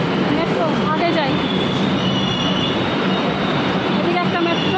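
A Kolkata metro train runs with another passing in the opposite direction, a loud continuous rumble with faint wheel squeal throughout.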